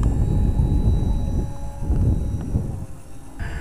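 A HobbyKing 3D RC model airplane flying knife edge, its engine under power as a rough, rumbling drone that swells and eases with throttle changes, moderately loud against outdoor wind.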